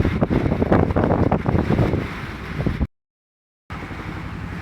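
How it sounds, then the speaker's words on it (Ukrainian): Loud, gusty wind roars against the microphone, cutting out briefly to silence before the rushing wind noise resumes. "Вітер зривається сильний."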